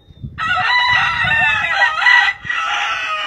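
A gamefowl rooster crows loudly and close by, one long drawn-out call with a brief break near the end, over faint low background noise.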